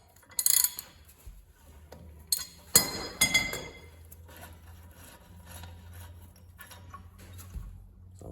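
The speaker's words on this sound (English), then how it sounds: "I'll usually take the socket and kind of tap it on too." A metal socket is tapped onto a Suzuki Samurai axle part to push its tabs aside, giving a few sharp, close metallic clinks in quick succession early on before things settle to quiet handling noise.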